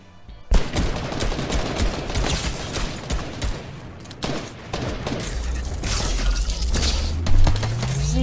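The Bad News weapon in Fortnite fires dense, loud, continuous volleys with crashing impacts, ending in a rising mechanical whine.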